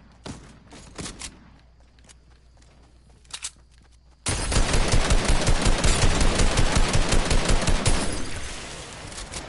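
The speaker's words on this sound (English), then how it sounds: "Someone's shooting, they're fighting." Video game gunfire in an arena match: a few scattered shots and thuds, then a sudden long, loud burst of rapid automatic fire with dense, evenly spaced cracks that fade toward the end.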